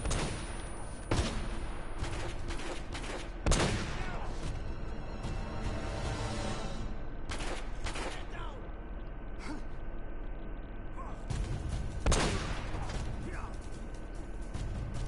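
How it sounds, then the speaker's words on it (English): Enemies open fire in the video game Uncharted: Drake's Fortune, sharp gunshots cracking in scattered single reports and short bursts, some loud and close, with mechanical clatter and a voice speaking between shots. "who's shooting me already?"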